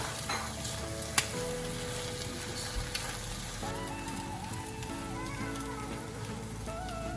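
Thai basil chicken stir-frying in a pan over a low flame, a steady close sizzle with occasional clinks of a spatula and faint tonal hum in the background.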